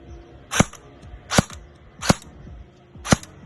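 Four sharp, muffled pops from an airsoft gun fired with a silencer, evenly spaced and close, each a short thud with a mechanical click from a noisy gearbox.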